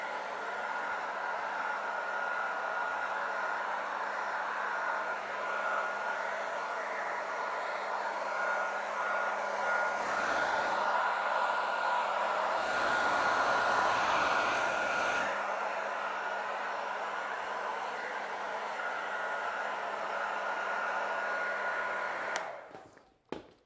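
A hair dryer blows a steady, whooshing stream of warm air over hair, running continuously at moderate level for about twenty-two seconds before clicking off abruptly near the end, with no talking.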